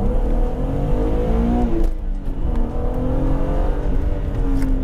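BMW Z3 M Coupé driven on a snowy road without electronic driving aids, its engine loud and close as it revs up and shifts, pitch climbing, dipping, then rising again.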